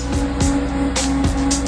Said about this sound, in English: For doing fat burnouts.